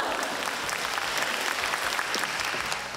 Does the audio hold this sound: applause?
yes